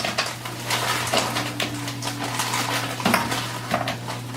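Food poured into a frying pan brings clinking and scraping of pan and utensils, with a steady low hum underneath and a few louder knocks.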